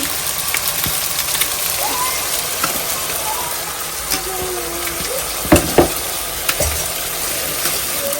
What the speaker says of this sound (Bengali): মশলাটা কষানো হচ্ছে তেল উঠে গেলে তারপর মাংস দিয়ে দিবে